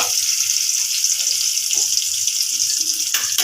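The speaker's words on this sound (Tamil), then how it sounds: "வெட்டி வச்சிருந்த வெங்காயத்தை சேர்த்திக்கலாம். அதுக்கப்புறம் கருவேப்பிலை சேர்த்துக்கலாம்." Chopped onions and curry leaves fry loudly in hot oil, with a dense, continuous, close-up sizzle and crackle. The oil is for a fish curry.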